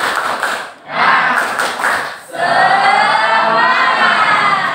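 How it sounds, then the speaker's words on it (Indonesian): A group claps together in a quick rhythmic pattern, loud and close, with short pauses between bursts. "Tepuk semangat."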